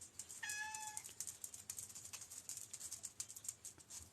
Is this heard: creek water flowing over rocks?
no